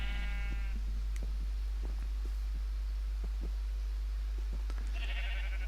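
Minecraft sheep bleat twice, a harmonic wavering baa at the start and another near the end, with soft game clicks and footsteps between over a steady low hum.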